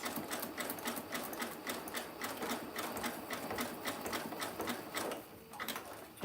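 A sewing machine stitches through a fabric picnic basket while it is guided slowly around a corner. Quick, regular needle clatter runs in bursts, slows briefly, then pauses near the end.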